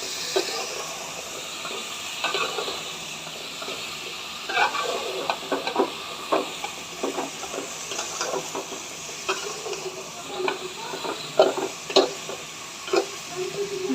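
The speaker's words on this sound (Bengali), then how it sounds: "ডাটার আলুটা আগে ভালো করে কষে নেব।" Potatoes for a shrimp curry sauté in a pan with a constant, moderate sizzle. Frequent spatula scrapes and stirring clatters come in an irregular rhythm, close up and with no talk.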